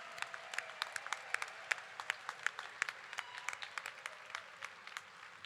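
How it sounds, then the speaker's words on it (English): Scattered applause from a modest audience at a Senior Day event honoring local honorees, individual claps distinct and fairly faint, continuing steadily without voices. "How about another round of applause for our honorees?"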